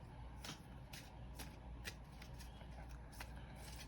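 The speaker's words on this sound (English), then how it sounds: "it can be a little awkward to shuffle" Large tarot cards riffle and slap together in repeated bursts, about twice per second, soft and close with a low background rumble.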